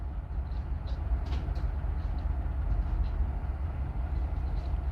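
Florida East Coast freight train locomotives rumbling across a bridge in St. Augustine, a steady heavy low roar of engines and rolling wagons, with faint squeals and clanks above, continuous and close.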